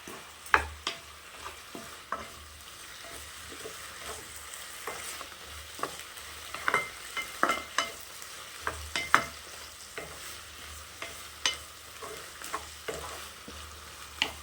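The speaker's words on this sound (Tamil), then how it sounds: "இது நல்லா வதங்கட்டும்." Tomatoes, salt and tamarind sautéing in a pan for a peanut mint chutney, with a steady soft sizzle and repeated scraping stirs of a spoon through the mixture, close and alone without talk.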